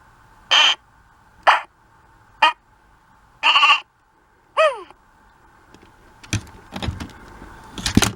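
A Toy Island Wacky Sax toy saxophone, its sound effects played at slow speed, gives five short, reedy, bleating honks with pauses between them, followed by softer clattering handling noises.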